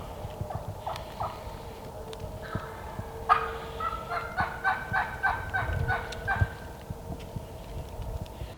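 A wild turkey gobbler gobbles in a rapid rattling burst at moderate distance, set against soft rustling and scattered thumps.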